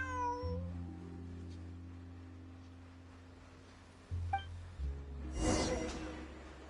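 A cat meows in a video game, a short plaintive call that rises over a soft musical backdrop, followed by a brief swishing rustle.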